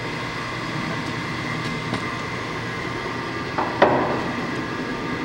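A heavy-duty LeBlond Regal 27-inch engine lathe turns slowly at 27 RPM, giving a steady mechanical hum and drone with a few faint clanks and a brief louder knock partway through.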